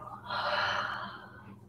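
During a vinyasa yoga practice, a single slow, audible breath swells and fades close to the listener, rising in the first half before tapering off.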